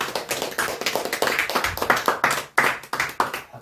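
A congregation at a year-end Sunday church service claps for a member's birthday, steady close clapping with uneven bursts and no talk.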